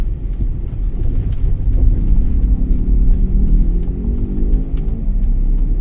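A car drives through city traffic on a diversion route, its engine giving a loud, steady low rumble with a smooth whir that gradually rises in pitch, and no voices over it.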